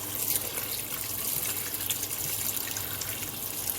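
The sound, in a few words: running water rinsing tripe in a large strainer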